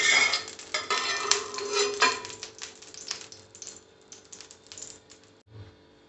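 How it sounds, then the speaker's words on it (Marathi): Oil is spread around a hot pan with a utensil before shallow frying potato slices, making quick scraping, clicking taps of metal on the pan that are busy at first, then thin out and fade. "पॅन छान मस्त गरम करून घ्यायचं आणि त्या त्यावर हे तेल टाकायचं चार चमचे तेल घ्यायचं आपल्याला छान पसरावून घ्यायचं"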